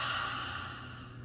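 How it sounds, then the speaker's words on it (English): Long open-mouthed exhale during a belly-breathing breathwork class, a soft breathy sigh like fogging a window, close and steady, fading gradually over about a second with no talking. "we're gonna do an open mouth exhale, like we're fogging up a window"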